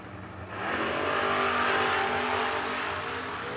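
A Pontiac Firebird drag car accelerating hard down the strip at a grudge race, its engine rising into a loud sustained roar that holds and then eases slightly, heard from the track side with no talk.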